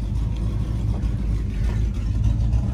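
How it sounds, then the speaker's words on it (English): A 1967 AMC Marlin engine idles slowly at around 600 RPM, a steady low rumble heard close and continuous with no talking. "Idles at about 600 RPM,"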